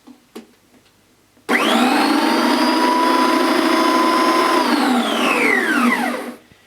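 Sebo Duo dry carpet cleaning machine switched on, its counter-rotating brushes spinning up to a loud, steady motor whine that holds for several seconds, then winds down and fades.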